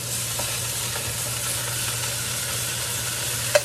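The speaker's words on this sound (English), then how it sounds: "Nice sear on that artichoke there." Artichokes and chicken thighs searing in a hot pan give a steady, close sizzle and crackle throughout, with a faint clink near the end.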